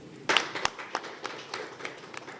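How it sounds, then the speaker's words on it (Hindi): At the Dadasaheb Phalke Icon Award Show, the audience breaks into applause: a sharp opening burst, then scattered individual claps that taper off at moderate loudness. "तालियां हो जाए।"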